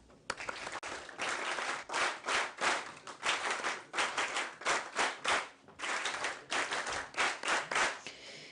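NCC cadets at a university felicitation programme clap in unison, sharp synchronized bursts of applause repeating in a steady rhythm with brief pauses between rounds, loud and close throughout.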